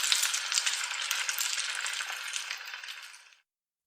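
Pork shoulder hitting hot oil flavoured with pimento berries and garlic, a bright crackling sizzle that is loud at first and then fades out over about three seconds.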